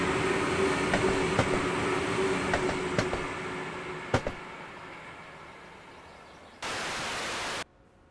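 An electric train rolls along the Mittenwaldbahn in Train Sim World 5, with rhythmic clicks of wheels over rail joints under a steady hum that fades, then a brief burst of hiss near the end.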